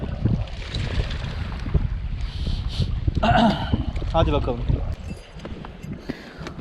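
Steady gusting wind rumbles across the microphone throughout, while someone clears their throat and says a few words, on a windy shore while fishing.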